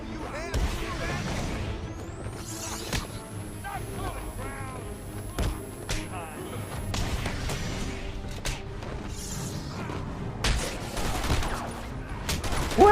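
Repeated gunfire in the Batman: Arkham Asylum video game, a rapid run of shots rattling over game effects with short gaps and a louder burst at the end, and someone talking and grunting over it.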